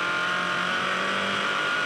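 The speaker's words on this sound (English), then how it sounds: "use the heel to get the revs up for the down change" Formula Ford race car engine revving hard during a heel-toe downshift, a loud, steady high-pitched engine howl with no break.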